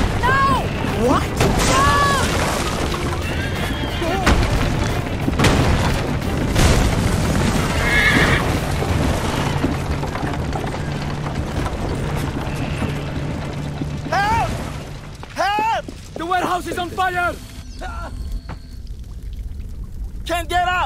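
Horses whinny repeatedly amid loud, busy action and booms in the video game Assassin's Creed III: Liberation, with hoofbeats pounding and a shouting voice over the chaos.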